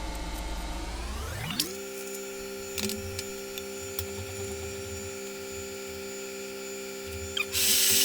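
Electric drill spins up with a rising whine, then bores steadily through metal with a 5 mm bit, a sustained close mechanical tone with small scraping bursts along the way.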